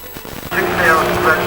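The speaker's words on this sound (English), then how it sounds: "I got browned off with that damned helicopter around all the time. It's just a horrible sound." A helicopter circles over an outdoor historical cavalcade event, its engine and rotor rising from a quiet start into a loud, steady drone that holds close overhead, with people talking underneath.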